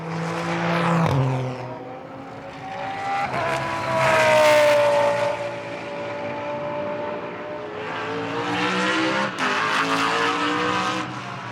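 GT race cars roar along the track during free practice at a Blancpain Sprint Series round in Moscow, engines rising and falling in pitch as they pass close by, with a continuous loud drone and a sharp pass near the end.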